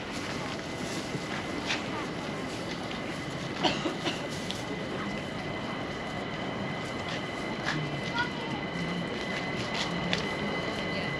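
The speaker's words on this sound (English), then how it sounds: "There's a train on the bridge up there in the distance." A London Overground train crosses a bridge some distance away, its low rail rumble and occasional faint squeals running steadily in the background of the street ambience while a person talks over it.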